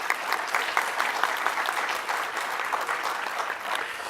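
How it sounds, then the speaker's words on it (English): A roomful of faculty senate members claps in a steady round of applause, dense and even throughout without voices. "Give him a round of applause, would you please?"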